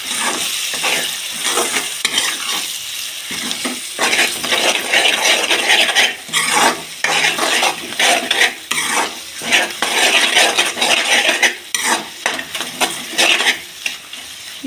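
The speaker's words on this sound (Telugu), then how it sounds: "ఒకసారి గుడ్డు గుడ్డు వేసిన తర్వాత బాగా కలిపి చేసుకుందాం" Egg being stirred into tomato fried rice in a pan, with loud, steady scraping and clattering over a continuous frying sizzle, close up and with no voices.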